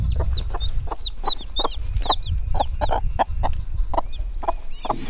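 A mother hen clucks repeatedly at close range in a farmyard with goats nearby, giving a steady run of short clucks and chirpy calls over low background rumble.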